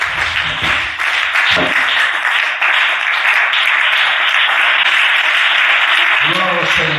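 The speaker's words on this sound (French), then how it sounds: "Est-ce que tu peux acclamer le Seigneur?" A church congregation at a French-language youth seminar applauds and cheers the Lord in a steady, loud wash of clapping and voices that fills the room, with a preacher's voice breaking through briefly near the start and again at the end.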